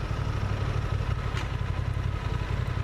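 A new, low-mileage Honda Transalp motorcycle idles steadily close by, with a low throbbing engine rumble and light mechanical clatter and no pauses.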